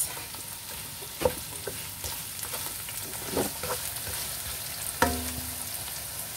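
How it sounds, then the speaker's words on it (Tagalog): Onions browning in a frying pan for Chinese-style spaghetti, a low continuous sizzle broken by a few sharp spatula knocks and scrapes against the pan, close and quiet. "Then, ipa-brown lang natin ang ating sibuyas."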